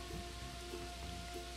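Rain sound effect behind a children's picture book reading, a soft, steady patter of rainfall with faint drops, quiet and unbroken, no voice over it.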